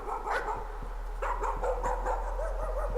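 In the horror game Layers of Fear, a dog yips and barks in a quick series of short, muffled calls from somewhere behind, over a steady low hum, moderately loud.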